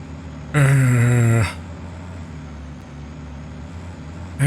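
A big truck in the factory-building game Satisfactory gives a loud, steady engine drone with a strong low hum that holds for about a second, then drops away to a faint rumble.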